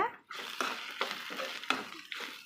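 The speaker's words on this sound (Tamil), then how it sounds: "கட்டி கட்டியாக இருக்கும் தேங்காய் பூண்டெல்லாம் சேர்ந்தது கொஞ்சம் நல்லா உடச்சி விட்டு வறுத்துக்கோங்க" Coconut and garlic spice powder being stirred and dry-roasted in a pan, with repeated close, rhythmic scraping strokes about every half second and a faint sizzle underneath, no talking.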